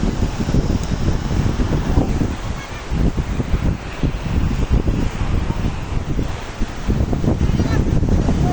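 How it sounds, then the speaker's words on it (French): Wind buffets the microphone over steady breaking surf on the beach at El Gaparou, Senegal, a loud continuous roar with gusty low rumble throughout and no voices. "je me balade sur la plage de El Gaparou"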